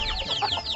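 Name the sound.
chickens clucking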